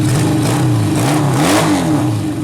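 A car engine revved by pressing the throttle during a gauge install, loud and close, its pitch rising and falling in several swells over a steady running rumble.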